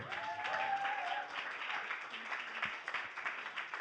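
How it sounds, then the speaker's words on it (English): An audience applauds a guest named Kristyn at a salon-style event, a warm crowd clapping steadily with a brief murmur of voices mixed in. "give up a round of applause for Kristyn"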